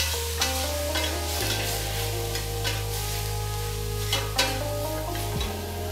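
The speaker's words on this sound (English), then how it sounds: "Give that a good stir." Parsley being stirred into a sauce in a pan, heard as a continuous sizzling bed with occasional scrapes and knocks of the spoon and a low steady hum underneath.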